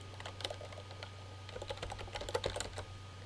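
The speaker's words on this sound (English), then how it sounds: "by typing in the name in the search box." Fingers tapping on a computer keyboard in quick irregular bursts of close, light clicks over a low steady hum, with no voices.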